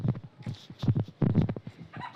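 Aseel rooster clucking in short, close bursts of throaty calls with brief pauses between them, fairly quiet overall.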